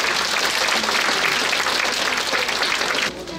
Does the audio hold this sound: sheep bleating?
no